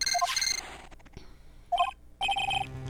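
A transceiver rings in the Phoenix Wright: Justice For All video game, three short electronic trilling bursts separated by brief pauses, clear and close.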